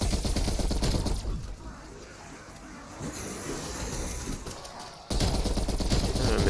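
Rapid gunfire in the video game Cold War Zombies, a strong starting weapon, firing in dense bursts with a quieter stretch in the middle before loud shooting resumes.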